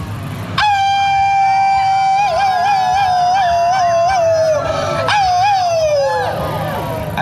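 At a healing gathering, human voices howl together in imitation of wolves: one long, wavering, sustained howl that rises sharply, holds and slowly falls, with a second swell near the end. It is loud and close, with fainter voices blending underneath.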